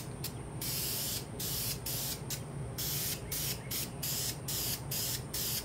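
Second spray coat going onto a Kawasaki Z900 motorcycle radiator guard: an aerosol can hissing in short, repeated bursts with brief gaps, close and fairly loud, with no talking.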